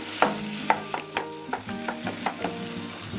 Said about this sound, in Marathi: बटाटे चांगले स्मॅश करून घ्यायचेत मसाल्यांमध्ये